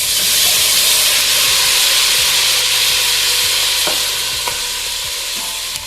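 Chicken pieces being stirred into hot chilli masala in a pan for bus-style chicken sambar, loud steady sizzling and hissing with intermittent scraping stir strokes, no talk.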